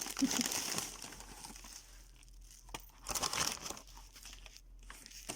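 Bubble wrap packaging crinkles and rustles up close in uneven bursts as it is pulled open and handled.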